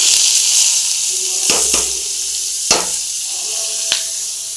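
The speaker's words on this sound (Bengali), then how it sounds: "দেখো বন্ধুরা, পেঁয়াজটা ভাজা ভাজা হয়ে এসেছে" Onions frying in oil in a pan for chicken curry, a continuous bright sizzle with a few sharp utensil clicks and scrapes as they are stirred.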